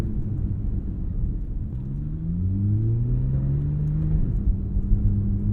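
A 2014 Porsche 911 Carrera S engine revs up with rising pitch, then makes quick gear shifts with a steady, loud rumble from inside the car and no talk.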